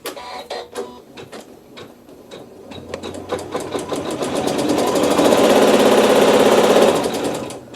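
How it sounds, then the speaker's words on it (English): Sewing machine sewing a quilt seam with neutral thread, starting with slow, separate stitch clicks that speed up into a loud, steady rapid hum before easing off. "we're going to go ahead with our neutral thread and we're going to sew a seam"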